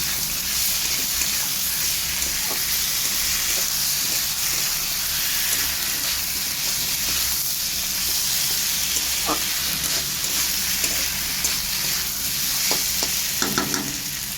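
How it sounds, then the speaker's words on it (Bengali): Garlic and ginger paste frying and being stirred in hot oil for a rohu fish curry, a steady close sizzle and hiss throughout with occasional clinks of the spoon against the pan. "এবার মশলাটাকে খুব ভালো করে কষিয়ে নেব।"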